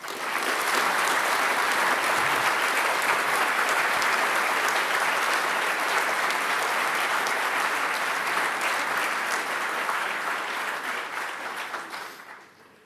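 A graduation ceremony audience applauds standing graduates with sustained, dense applause from a large crowd, steady and even for most of its length before fading out at the end.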